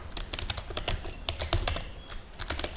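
Quick bursts of typing on a computer keyboard while a question is entered into a Microsoft Word document, with steady, close-up key clicks running throughout and no voices.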